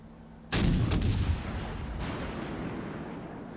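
Secondary battery guns on a warship in World of Warships Legends fire two loud booming blasts in quick succession, then a rumbling echo fades away.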